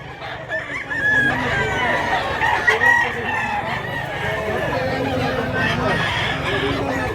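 Roosters crow and cluck at a gamefowl sale in Mantalungon, Cebu, where a three-year-old Lambuhon x Kanawayon cock is on offer. Repeated nearby crowing and clucking overlap with people talking.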